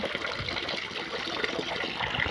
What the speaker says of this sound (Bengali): দাঁড়া, জল বন্ধ কর দে।